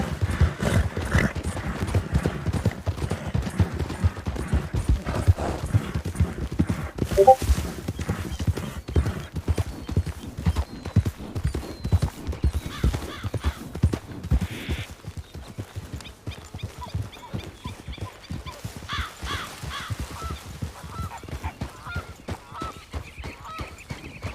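Horse hooves in the video game RedM beat in a steady, fast galloping rhythm that runs for the whole stretch, loud and close, with a brief bird-like honk partway through.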